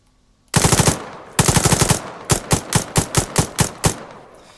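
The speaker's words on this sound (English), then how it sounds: "when you're firing your gun" Rifle fire in the Arma 3 game with the Blastcore mod: two quick automatic bursts of sharp, loud shots, then a slower string of about nine evenly spaced single rounds, each leaving a short echoing tail.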